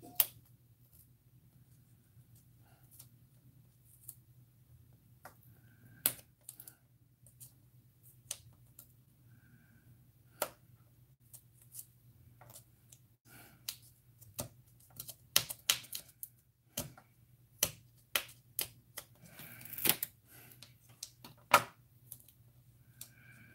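Scissors snip through craft card for a shaker card in sparse, sharp clicks and cuts, close and quiet, growing more frequent toward the end over a low steady hum.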